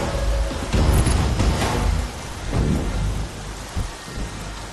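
A storm scene in a Telugu action comedy film carries heavy rain pouring steadily on surfaces, with deep rolling thunder that booms loudly early on and rumbles again midway through.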